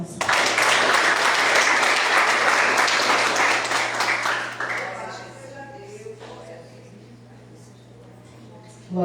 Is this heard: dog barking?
no